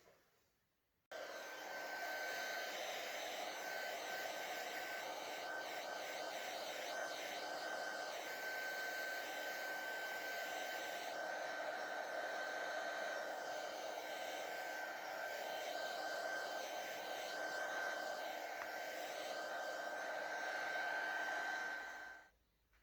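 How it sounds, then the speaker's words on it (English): A heat tool blows steadily for about twenty seconds while drying an inked card background, a loud, even whoosh with a faint whine that starts and stops abruptly. "I just came in with my heat tool there and just made sure that the background was dry"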